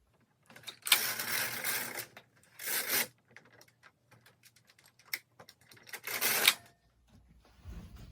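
A Bond knitting machine carriage sliding across the needle bed in several rasping, clattering passes, each lasting about a second, with small clicks and handling noises between the runs.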